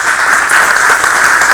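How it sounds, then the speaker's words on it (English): Dense audience applause at a manufacturing panel event, a loud, steady wash of many hands clapping close by with no pauses and no voices. "One more round of applause for Todd."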